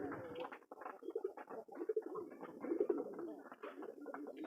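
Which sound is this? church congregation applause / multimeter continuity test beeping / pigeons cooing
pigeons cooing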